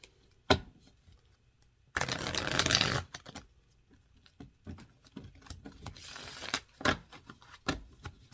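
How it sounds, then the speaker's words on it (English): Tarot cards are shuffled in close, crisp riffling bursts with scattered taps and flicks between them, and no one is speaking. "Let's just get a few shuffles in here."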